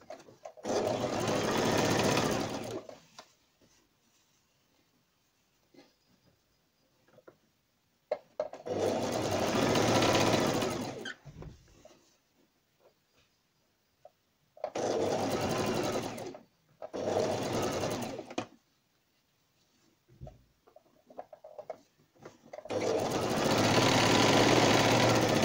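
A sewing machine stitches a placket seam in folded kurti fabric, running in several loud, steady bursts of a few seconds each, separated by quiet pauses.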